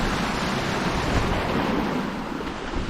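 Ocean waves wash onto the shore in a loud, steady roar of surf mixed with wind noise that continues for the whole stretch.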